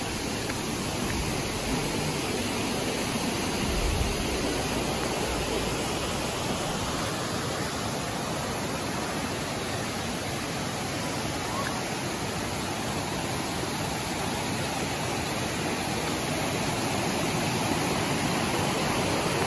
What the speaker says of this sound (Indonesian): Alirannya cukup deras.